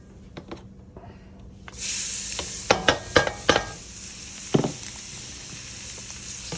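Vegetables hit a hot roux in a pot for a smoked deer hind quarter stew, setting off a sudden steady sizzle, followed by several sharp spoon-against-pot clatters as they are stirred in.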